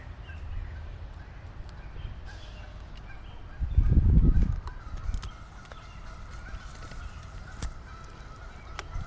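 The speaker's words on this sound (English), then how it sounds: "You hear the geese?" Geese honk in the distance on a Michigan morning trail, a brief burst of calls rising over steady outdoor background noise, with scattered faint clicks.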